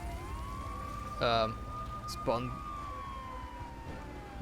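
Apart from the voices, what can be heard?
police car sirens in video game GTA III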